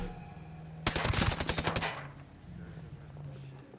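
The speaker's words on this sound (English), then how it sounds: "gunshots. Everybody be ready." Rapid automatic gunfire in Ghost Recon Breakpoint erupts in one loud, dense burst lasting about a second, then fades back to a low steady hum with a faint voice.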